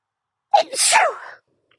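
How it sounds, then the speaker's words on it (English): A single close, loud sneeze bursts out with a sharp intake followed by a forceful, breathy release, then silence. "I'm gonna sneeze"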